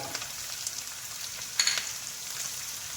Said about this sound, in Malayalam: എല്ലാം കൂടി ഒന്ന് നമുക്ക് മൊരിച്ചെടുക്കാം നന്നായി